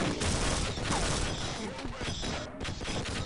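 Gunfire in the video game Half-Life: a dense, rapid burst of shots and crashing impacts through a chaotic firefight, loud and continuous for a few seconds, with a voice partly underneath.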